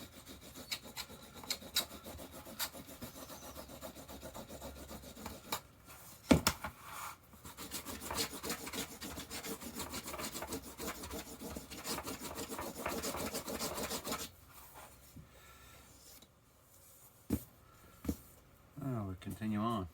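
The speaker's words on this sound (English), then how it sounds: "And you could go back and run down your edges." Someone rubs down the cut edges of a leather fender bib for a Harley-Davidson, producing close, continuous rasping strokes with a few short pauses and small knocks.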